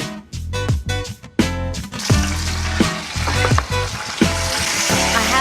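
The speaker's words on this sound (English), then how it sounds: "just listening to that sizzle, it speaks for itself" A steady, hissing sizzle of a green peppercorn glaze for whole duck reducing in a pan on the stove, with occasional clinks and stirring sounds on top.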